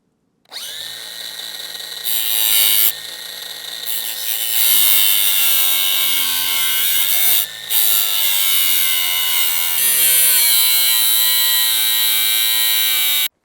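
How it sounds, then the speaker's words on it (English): Loud, sustained high-pitched whine of a power tool cutting a hole in the metal hood of a 1993 Dodge D350 truck, running almost nonstop with a few brief pauses and pitch shifts as the cut progresses. "Next step after this is cutting a hole in the hood."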